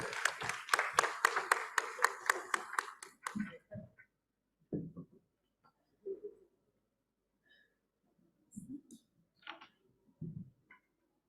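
A short burst of audience applause at a conference panel session on risk management, brief rhythmic clapping for about three seconds that then gives way to scattered faint taps and rustling.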